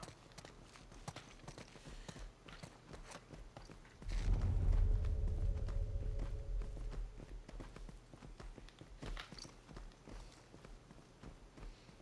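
A wild boar in The Last of Us Part II runs past, quick hoof-like footfalls pattering throughout with a heavy rushing thump midway as it bursts close, then fading back to scattered steps.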